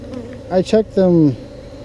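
Honeybees at a Texas hive, cut out of a wall, hum softly in the background while a person's voice speaks briefly over them at close range.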